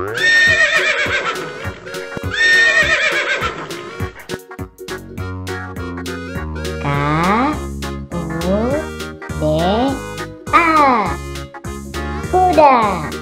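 Repeated loud horse neighs and whinnies, each a rising then falling shaky cry, come one after another close to the microphone with short clip-clop hoof sounds in between and no talking.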